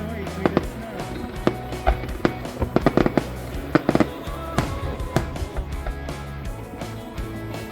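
A rapid volley of Canada Day fireworks and firecrackers, many sharp cracks and bangs in irregular bursts, some clustered tightly, loud and echoing outdoors with faint voices in the background.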